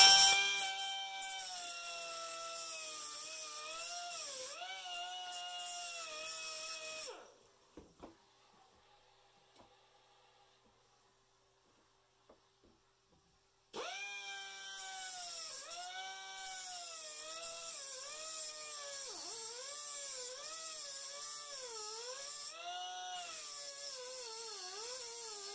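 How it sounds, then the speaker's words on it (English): A power tool grinds a couple of slots into a metal socket, its whining tone rising and falling in strained bursts for several seconds, then a pause of near silence before the steady, loud grinding resumes. "take a socket and grind a couple slots in it"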